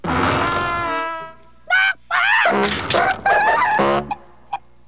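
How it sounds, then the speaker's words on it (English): A chicken clucks and squawks in a children's television show, a sustained loud call followed by a run of choppy, excited clucks that trail off into a final short peep. "See Chicken Jane write the letters E-X-I-T."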